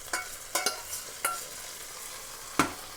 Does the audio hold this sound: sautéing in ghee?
yes